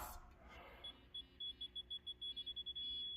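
A quiet digital torque wrench beeper chirps in a quick series of short, evenly spaced beeps, ending in a longer steady tone, after a brief mechanical rustle, while bolting a transmission onto a Ford F-150 Powerstroke.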